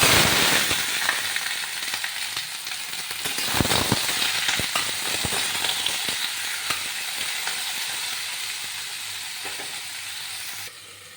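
Cut potatoes and eggplant sizzle steadily in hot oil in a pan for a vegetarian meal, a loud continuous frying hiss with crackles and a few sharp pops and stirring clatters, with no talking.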